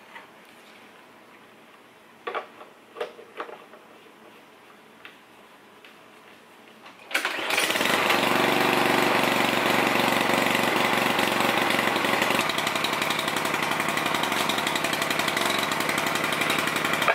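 After several seconds of near quiet with a few faint clicks, a small Stihl outdoor power equipment engine starts abruptly outdoors and runs loudly and steadily at a constant drone.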